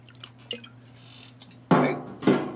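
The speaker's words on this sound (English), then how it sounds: "I will pour some water into my coffee cup." Water, hot or cold, goes into a coffee cup for a reproduction WW2 K ration meal in two short, close splashy bursts after a quiet stretch, with no talk over it.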